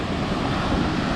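Pacific Ocean waves washing steadily onto the shore, a continuous broad rush of surf mixed with wind buffeting the microphone, no voices.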